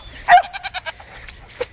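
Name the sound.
goats bleating on a homestead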